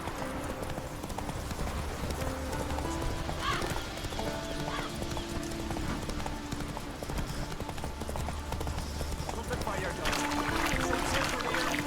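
Roach, Geralt's horse in the video game Witcher 3, trotting with steady rhythmic clip-clop hoofbeats and occasional whinnies over ambient game sound, with spoken dialogue at times.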